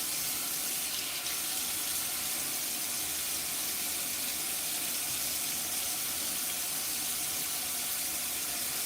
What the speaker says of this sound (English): I cup it under the faucet